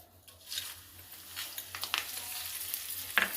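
Tempering seeds splutter in hot oil with asafoetida in a home kitchen while lentils with tomato and brinjal are being cooked. A soft sizzle grows louder and is dotted with quick irregular crackles, with a sharper pop near the end.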